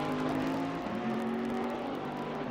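A Bentley GT3 race car in a sim racing game at Oulton Park holds a steady, loud engine drone with a slight pitch dip as it powers through a high-speed left-hander.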